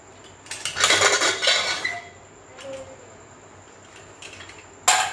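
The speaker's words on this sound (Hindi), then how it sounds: "मेरा ये कुकर ठंडा हो चुका है, अब मैं इसको खोलूंगी" A cooled pressure cooker holding kidney beans for rajma is opened, with a burst of metallic clattering and lid scraping, then quieter pot clinks and a sharp clank at the end; no talk.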